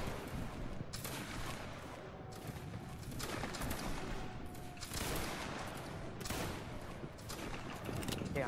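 Musket volleys crackle in a Roblox Waterloo Napoleonic battle, dense overlapping shots rolling in waves over a constant roar of battlefield noise, with faint voices underneath.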